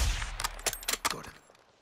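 Sniper rifle shots fired in the Modern Warfare 2 campaign, a quick string of five or six sharp cracks with short echoing tails, fairly faint and with no talking.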